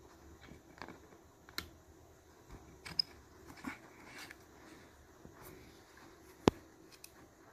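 A plastic cover being slid back onto an M.2 NVMe SSD enclosure, a series of light, close clicks, taps and scrapes with one sharper snap near the end, quiet and without talk.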